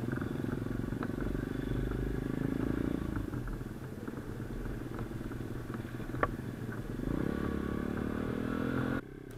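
Pit bike motorcycle ridden off-road through the countryside, its small engine droning steadily with shifts in pitch and a sharp knock midway, then cutting off near the end, no talk.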